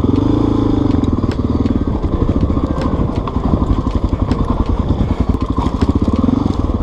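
Honda XR 600 dual sport motorcycle rolling downhill over rough terrain, its engine a steady loud close drone with rhythmic bumps and clatter from the bouncing ride, no talk.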